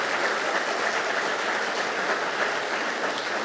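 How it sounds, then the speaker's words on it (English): An audience at a leaders and awards celebration claps in a dense, even wash of applause, sustained and fairly loud throughout. "Let's give him a huge round of applause"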